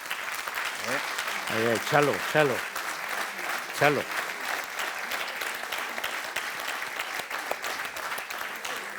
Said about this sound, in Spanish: creo que solo nos queda pedir otro fuerte aplauso para Iñaki